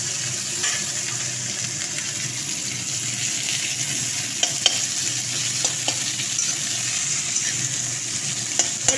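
Chopped onions frying in a pan with oil just used for frying fish, giving a steady, loud, close sizzle broken by occasional sharp clicks of stirring; no one speaks.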